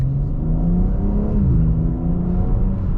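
A 2022 BMW M4 Competition coupe accelerates at partial throttle, its engine a loud, close, rising growl that holds steady for a few seconds with no talking.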